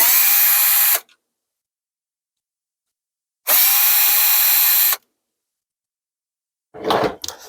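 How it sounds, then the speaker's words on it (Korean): A power screwdriver whirs in two separate bursts, each lasting about one to one and a half seconds, as it backs out long T10 screws from the separation pad of an HP 8710 printer, followed by a brief handling rattle. "나사 두 개가 박혀 있는데 이 나사를 풀어주면 되겠습니다"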